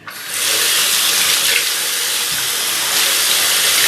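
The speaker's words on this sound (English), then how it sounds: "I'm just going to turn on the sink" A sink tap runs steadily at close range, its water pouring over makeup brushes in a loud, constant hiss that starts abruptly and continues without a break.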